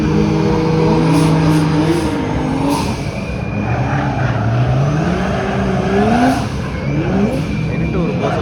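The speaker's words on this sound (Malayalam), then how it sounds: "അടുത്ത വണ്ടി വന്നു നിസാൻ 400 കേട്ടോ" Nissan 400Z drift car at the Emirates Drift Championship in Abu Dhabi, its turbo engine revving and rising in pitch through repeated sweeps, loud and continuous with crowd and voices in the background.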